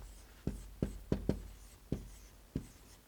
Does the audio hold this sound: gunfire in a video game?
no